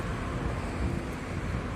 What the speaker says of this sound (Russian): И очень сегодня ветрено.